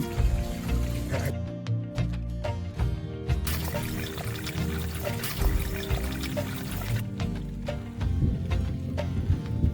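A caught rat is dunked in water, with splashing, pouring and trickling sounds close by, mixed with clattering and handling noise of the trap or container over the whole stretch.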